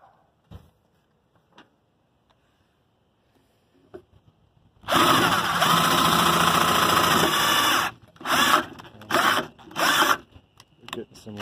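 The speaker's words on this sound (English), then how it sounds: "I guess we can drill deeper since I still see the slot." A power drill whirs loudly for about three seconds drilling into a stuck gas cap lock, then runs in several short bursts, after quiet handling clicks at the start.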